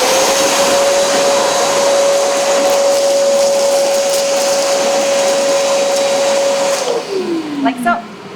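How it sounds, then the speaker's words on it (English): A shop vacuum runs loud and steady beneath a laser cutter's honeycomb bed, sucking up debris, then its motor winds down with a falling whine near the end. "So now with the shop vacuum, you have access to underneath the honeycomb. So just clean up the debris."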